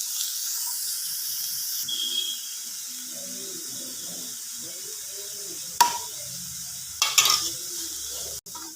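Soft scraping and sizzling as food is stirred in a cooking pan, with a few sharper clinks of a utensil against the pan toward the end.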